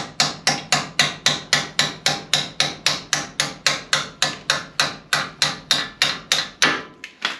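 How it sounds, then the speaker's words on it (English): A steel rod taps repeatedly on brake caliper parts from a Ford Econoline van, a fast, even run of about twenty loud, sharp metallic strikes, close up and alone, ending with a short pause before a last hit. "What I got here simply is a piece of steel rod, and I think I can just tap on these and they will mush together"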